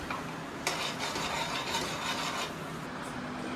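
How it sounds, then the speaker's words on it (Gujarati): Eggplant bharta is stirred with garlic paste in a pan, with close, continuous scraping and mixing strokes. A sharper scrape of the spoon against the pan comes partway through, then the stirring carries on at an even level. "અને બરાબર મિક્સ કરી લઈશું"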